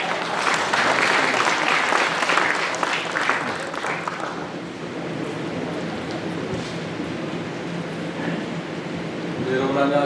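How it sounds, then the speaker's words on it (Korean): A crowd at a local town-hall meeting with Sejong's mayor breaks into loud, dense applause that fades after about four seconds into murmuring and voices, then a brief swell of clapping near the end. "최민호 시장님 큰 박수로 모시겠습니다."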